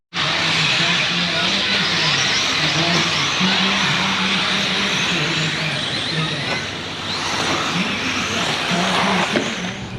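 Electric RC cars race around a track at SS Hobbies Raceway in Florida during a main event, their high-pitched motors whining and rising and falling continuously, with tires squealing at times under a loud, steady mix of engine noise and faint talk.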